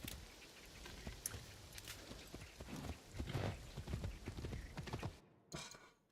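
Horse hooves clip-clopping in the video game Assassin's Creed Shadows, a quick run of close, crisp hoofbeats that stops abruptly near the end.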